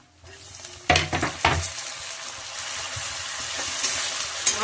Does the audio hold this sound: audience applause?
no